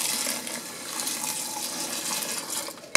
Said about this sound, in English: Go ahead and add the water, John.